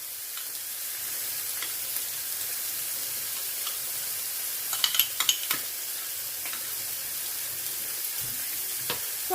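Onions cook in a pot over medium heat for a chicken yassa, giving a soft, steady sizzle with a few brief clinks of stirring near the middle, quiet and with no voices.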